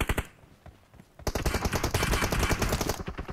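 Rapid automatic gunfire from a mobile shooter game rattles in dense bursts: a short burst, a pause, then a long sustained volley of sharp close shots.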